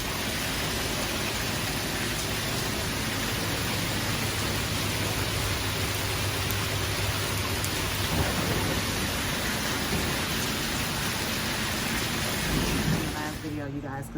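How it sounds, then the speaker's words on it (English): Heavy rain pours outdoors in Arizona, a dense, loud, unbroken hiss with low rumbling underneath, ending in a short burst of handling noise. "I think that rain might be a little too loud to keep recording"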